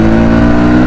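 A motorcycle engine on a forest road ride near Chitlang revs hard and close, a loud continuous drone with no voices.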